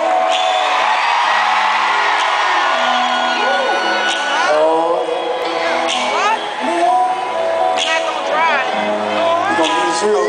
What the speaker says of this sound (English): scream a little louder